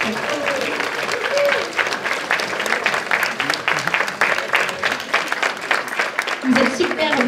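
Applause for nervous young cosplayers at a comic festival in Delémont. A crowd claps loudly and steadily with a little murmuring, and voices rise briefly near the end.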